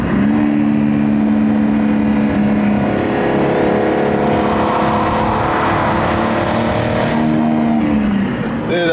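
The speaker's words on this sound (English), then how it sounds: "Let me see if I can make it a little bit louder by brake boosting a little bit here." A BMW E90 with a big-turbo N54 engine revs hard while brake boosting, a loud sustained engine roar that climbs in pitch with turbo whine and eases back at the end, steady and close throughout.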